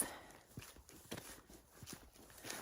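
A horse's hooves clop at a walking pace across frozen ground in the Skyrim video game, soft and steady, with faint ambient noise around them.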